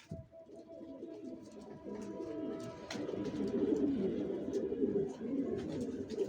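Racing pigeons in a loft coo continuously in low, overlapping murmurs, fairly close but soft, with occasional faint chirps and rustles and no talking.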